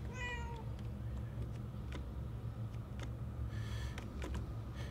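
A cat meows repeatedly in the video game Murdered: Soul Suspect, a clear rising mew at the start followed by further meows, heard over a steady low ambient game hum.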